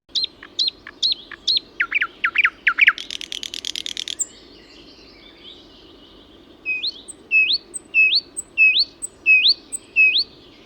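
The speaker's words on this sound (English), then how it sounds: "Nightingale." Nightingale song, a loud close bird singing alone: repeated rising whistled notes, a fast buzzy trill in the middle, then a series of evenly spaced sharp whistled phrases against faint background hiss.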